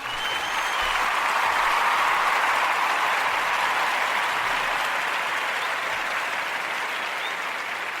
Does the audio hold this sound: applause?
yes